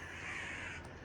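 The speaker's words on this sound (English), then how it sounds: "Yeah, they look like crows. There's a lot of them." Crows cawing in a large flock, a dense continuous chorus of calls held steady throughout, moderately loud and close, with no talking.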